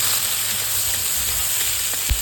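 A crushed green chili and garlic paste fries in a pan with cabbage bhaji, a continuous soft sizzling hiss that holds steady, ending in a single dull knock, with no one speaking.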